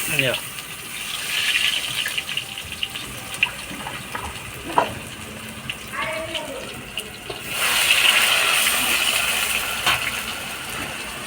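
Water pours into a pan of ginger-garlic paste and green chillies while chilli chicken is being cooked, a loud gushing stream that rises and falls, with a voice talking over it.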